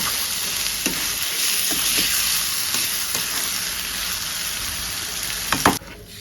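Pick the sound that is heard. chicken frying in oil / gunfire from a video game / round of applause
chicken frying in oil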